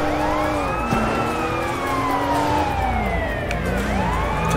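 Police car sirens in the video game Sleeping Dogs wail continuously with overlapping rising and falling tones over engine rumble, loud and close throughout.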